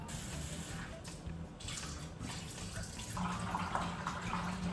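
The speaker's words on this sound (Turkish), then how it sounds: "su bardağı mercimek koydum. Bunu yıkayacağım bir güzel" Tap water runs over lentils being washed in a kitchen, a steady soft rush with light swirling and splashing that grows slightly fuller toward the end, quiet and close.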